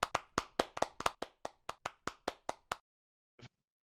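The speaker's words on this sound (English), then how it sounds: "We can applaud you." Following a virtual reality conference talk, a single pair of hands claps about fifteen times in quick succession, close and crisp, then stops, with one faint later sound after a pause.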